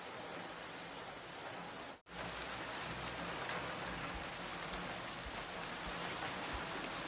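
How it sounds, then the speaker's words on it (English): Heavy rain in Sweden pours down as a dense, unbroken hiss that dips only once for a split second, with no voices over it. "now it's raining so much."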